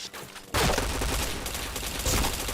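Rapid gunfire from the shooter game Point Blank bursts in after a brief quiet moment, then continues as a loud, dense, sustained volley of shots that fills the rest of the stretch.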